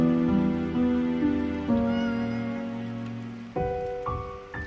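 A cat meows repeatedly over steady rain in the video game ネコとワタシと雨の家, a series of drawn-out, tonal cries rising and falling, close and fairly loud.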